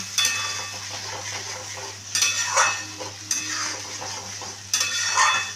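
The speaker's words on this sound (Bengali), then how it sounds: "দিয়ে ভালো করে এটা এবার আমি মিশিয়ে নিচ্ছি" Salt being stirred into sizzling masala in a pan for a rui fish curry, a steady frying hiss with three scraping spoon strokes against the pan, close and moderately loud.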